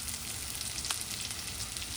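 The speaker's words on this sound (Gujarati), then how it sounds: "ઓનિયન નાખી દઉં છું, કરી દઈએ સોટે." Carrots, bell peppers, capsicum, sweet corn and onion sauté in a hot pan with garlic, giving a steady, fairly quiet sizzle with a soft stir or clink partway through.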